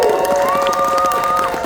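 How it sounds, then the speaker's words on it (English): A short burst of Comic Con audience cheering and clapping, loud and close, with high whoops rising over the noise. "Give her a round of applause, everybody."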